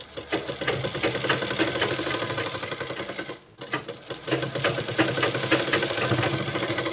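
An electric sewing machine stitches the placket strip of a kurta in a fast, even mechanical whir with a rhythmic needle patter. It runs loud and close, stops briefly midway, then starts again.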